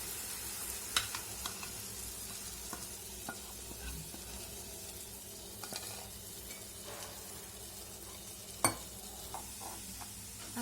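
Cheese ball batter cooks in melted butter with a faint continuous sizzle, broken by occasional soft stirring scrapes and taps close by.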